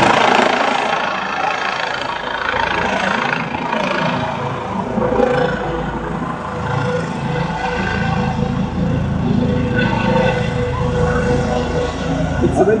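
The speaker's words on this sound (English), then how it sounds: "the helicopter is having a problem or what?" An ambulance helicopter struggles to land in strong wind in Berlin, its engine and rotors roaring loudly and continuously with a droning, wavering hum, while people talk nearby.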